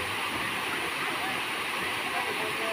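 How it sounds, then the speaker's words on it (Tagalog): Bolinao waterfall roaring steadily, a dense continuous wash of falling water that stays loud and even throughout, with no clear voices above it. "Ito ang falls ng Bolinao."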